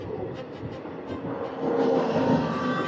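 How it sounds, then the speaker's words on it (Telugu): A train approaching on the opposite track during a journey through the Eastern Ghats, a steady rumbling rail roar that swells louder toward the end, heard from inside an empty coach with no talk. "మనకు ఆపోజిట్ లో ట్రైన్ వస్తుంది, చూద్దాం ఏ ట్రైన్ అది"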